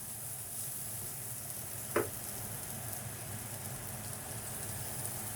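Palak spinach sautéing in a pan for palak paruppu, a steady low sizzle running throughout with one brief sharp scrape or clink near the two-second mark, no voices.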